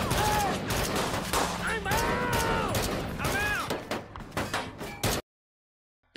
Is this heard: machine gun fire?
yes